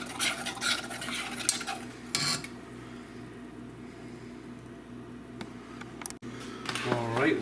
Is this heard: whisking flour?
yes